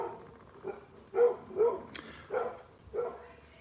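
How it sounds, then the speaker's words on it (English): A dog gives a string of five or six barks at a steady, spaced pace, a little distant and fairly faint, over a quiet room background with no talking. "That's a dog chasing a troll away."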